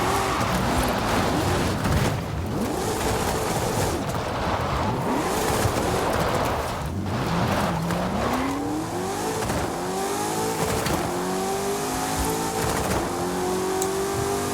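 A Ford Fiesta in Forza Horizon 5 drives hard with a steady engine drone, revving up through gears in rising sweeps, with tire squeal and skidding mixed in, loud and continuous throughout.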